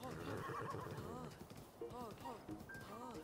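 A horse in Zelda: Breath of the Wild neighs and whinnies repeatedly over steady clip-clop hoofbeats while galloping, heard faintly amid game ambience and a player talking.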